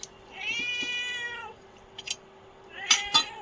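A house cat gives a drawn-out meow followed by a few shorter, quieter cries, close and clear against a quiet room.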